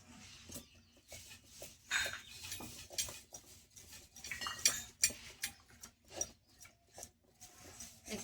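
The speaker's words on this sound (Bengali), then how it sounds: "আমি এখন একটু বেলে নেব। এই দেখুন, একটু ময়দা দিয়ে বেলবো।" Paratha dough for potato-stuffed flatbread being rolled out with a rolling pin on a dusted surface: soft rhythmic knocks, rubbing and light clatter, close and quiet, repeating in uneven strokes.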